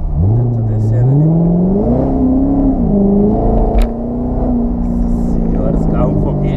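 A Jaguar XJ6 accelerates hard, its engine note climbing steadily in pitch through the gears with a loud, close, smooth growl that dips briefly before rising again.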